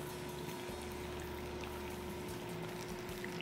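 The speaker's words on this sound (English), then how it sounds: "So we'll get some of our falafel balls in there, and you just want these to get nice and golden brown" Falafel balls frying in hot oil, a low steady bubbling sizzle with a faint constant hum, quiet and unbroken with no talking.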